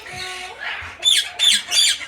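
A lovebird or Indian ringneck parrot lets out three sharp, shrill squawks in quick succession, close and loud, following a softer chattering call.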